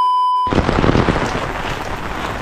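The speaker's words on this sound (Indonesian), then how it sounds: "Ini lagi hujan terus-terus ya." Heavy rain pours down steadily over a Japanese village during a rainstorm, a dense, loud wash of noise that starts abruptly after a brief tone and continues unbroken.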